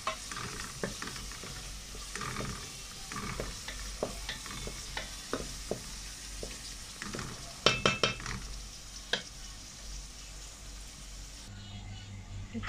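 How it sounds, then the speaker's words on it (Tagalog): Pasta sauce seasoned with black pepper being stirred in a pan, with a soft sizzle and a quick series of spoon scrapes and clacks that fades near the end. "Mix lang natin."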